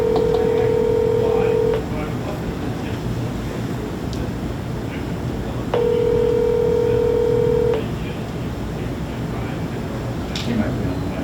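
A phone on speakerphone gives two long steady ringback tones separated by a pause, heard under faint room noise and a little background talk.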